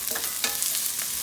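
Onions fry in heated oil for a chicken and vegetable dinner, a close, continuous crackling sizzle broken by a few quick stirring scrapes.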